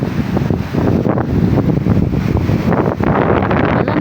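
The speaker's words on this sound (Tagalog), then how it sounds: "walang ulan lakas ng hangin" Strong typhoon wind gusts in Bohol, with no rain, roar and buffet the microphone, a loud, rough, continuous rumble that swells and dips over a few seconds.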